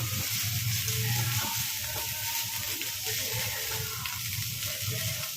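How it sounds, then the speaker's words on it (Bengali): Fish chop filling for Kolkata macher chop fries on low heat in a pan, a steady close sizzle with scattered spattering pops and occasional stirring. "আঁচ আমার কমেই আছে, ছিটছে দেখুন।"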